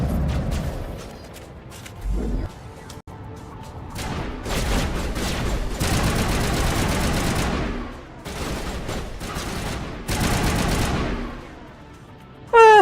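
Sniper rifle fire in Mass Effect Legendary Edition, loud bursts of repeated shots and booming blasts in several long waves separated by brief lulls, ending with a sudden sharp tonal sound.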